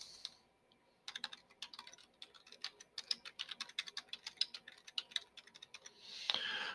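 Typing on a computer keyboard: a quick, uneven run of light clicking keystrokes, close and fairly quiet, ending in a slightly louder clack.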